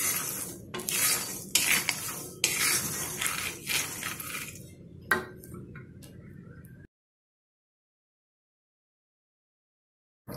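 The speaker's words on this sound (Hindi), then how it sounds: "इसे हम बिल्कुल सेम आंच करके और धीरे धीरे रोस्ट करेंगे, तब ये अच्छी तरह से रोस्ट होता है और बिल्कुल इस तरह से चलाते भी रहेंगे।" Peanuts being slowly dry-roasted in a pan over even heat and stirred continuously, giving busy scraping and rattling clatter for about seven seconds, with some sharper knocks, then falling silent.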